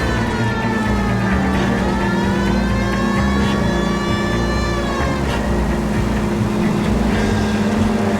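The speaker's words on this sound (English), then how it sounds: "That siren noise is getting annoying." Police car siren in the L.A. Noire video game wails in rising and falling sweeps over a loud low engine drone, continuous and close throughout.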